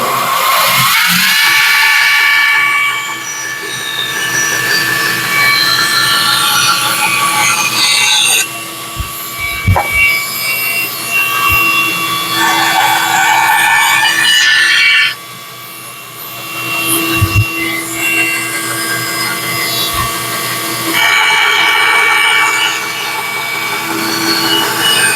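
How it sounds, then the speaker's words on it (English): A bandsaw cuts out a wooden sleigh handle, its steady high whine and rasping blade noise running loud and close throughout, with brief dips and knocks as the piece is turned. "Now let's turn around with the bandsaw and get her cut out."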